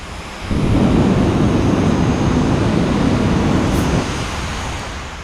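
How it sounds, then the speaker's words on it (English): A General Electric J85 jet engine runs at a diesel drag event in the desert, a loud broadband roar that surges up and holds steady before easing slightly, with no talk. "The General Electric J85 jet engine."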